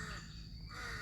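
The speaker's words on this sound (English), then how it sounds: "There goes the crow." A crow caws once or twice at a historical park in Kamphaeng Phet, brief and somewhat distant, set against a steady outdoor ambience.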